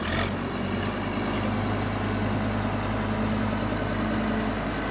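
A farm tractor idles steadily at a barn, a loud, continuous low engine rumble with no pauses, heard close by.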